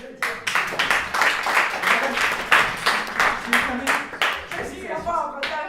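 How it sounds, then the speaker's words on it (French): Theatre audience applauds in steady, full clapping for several seconds during a live stage play, the sound dense and close, with a voice emerging as it tapers off. "on peut l'applaudir"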